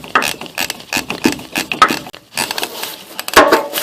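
A swivel ratchet tightening a nut on the rear shock mount of a 1997–2004 Ford F150, loud close rapid clicking in short uneven strokes with metallic clatter between them.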